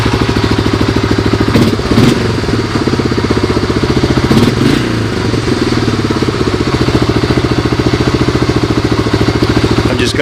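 A Honda 250SX motorcycle engine runs after an electric start, idling loud and close with a steady rapid chug and mechanical clatter for ten seconds.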